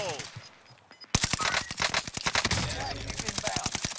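Automatic gunfire in Warzone on the Pacific map breaks out after a quiet second, a rapid, close, sustained stream of shots with short pauses, while players talk.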